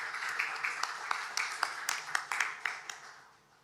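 Scattered hand claps ring out from a small audience at a panel discussion on Hyderabad's innovation growth, a thin round of uneven, fairly close claps that fades toward the end.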